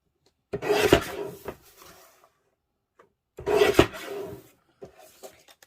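Cardstock for a card base is cut with two separate rasping strokes of a blade through the paper, each about a second long, close and fairly loud with brief quiet between them.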